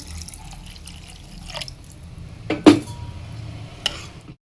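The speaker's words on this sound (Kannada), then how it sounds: "ಅಕ್ಕಿಗೆ ಬೇಕಾಗಿರೋಷ್ಟು ನೀರನ್ನು ಹಾಕೊಳ್ಳೋಣ." Water splashes briefly into soaked rice inside a pressure cooker, a short, close gush and slosh amid quiet kitchen clinks and drips.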